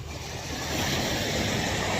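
Surf rolling onto a beach just after a typhoon, a steady broadband wash of waves with wind noise, building slightly in loudness and continuous throughout with no talking.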